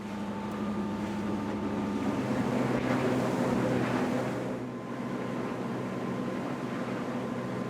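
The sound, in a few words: Vanquish 24 runabout boat with inboard engine cruising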